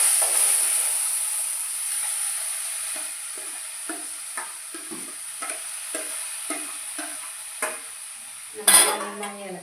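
Chopped ivy gourd and okra are stirred in a pan for a thoran, with a steady frying sizzle and a series of light, regular scrapes and taps of the spoon against the pan, ending in a louder clatter.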